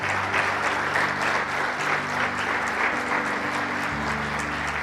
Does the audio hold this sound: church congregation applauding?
yes